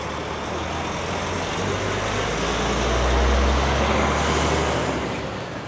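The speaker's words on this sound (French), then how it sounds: "je vais profiter justement de la venue d'un camion qui vient de collecter du lait" A milk collection truck pulls in at a cheese dairy, its engine a loud, steady diesel rumble that swells closer near the middle, with a brief hiss of air brakes and no talking.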